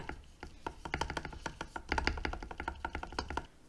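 Spacebar on a KBD67 Lite R3 custom mechanical keyboard with high-quality stabilizers and switches, pressed many times in a steady run of soft, muted thocks, close and quiet with no voices.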